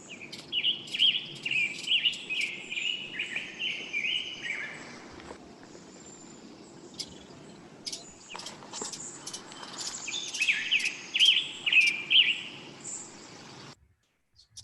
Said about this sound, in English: warbling song. It's kind of like an American robin, but more burry, more of a fuzzy sound.